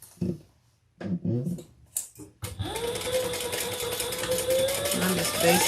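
A sewing machine bastes fabric in a steady, fast mechanical whir that runs continuously after a few brief opening sounds, with a voice speaking briefly before it starts.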